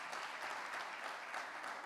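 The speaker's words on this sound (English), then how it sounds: "Give it up for them. Round of applause." A room full of people claps steadily for a panel at a mental health and wellness talk, a continuous even patter of applause.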